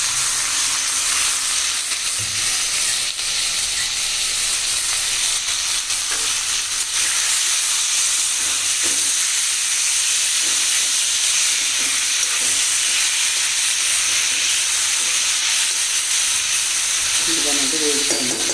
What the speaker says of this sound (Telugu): ఇదిగోనండి, సొరకాయ మొత్తం ముక్కలు వేసేసాను.